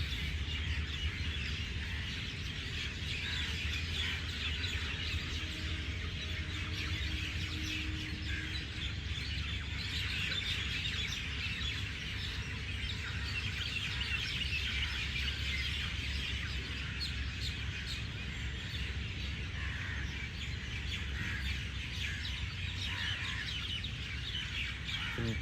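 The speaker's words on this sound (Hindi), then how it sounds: "इन चिड़ियाओं को महसूस करने की कोशिश।" Birds chirp outdoors in a steady, faint chorus of tweets and calls over a constant background hiss, with an occasional fowl-like cluck and no one speaking.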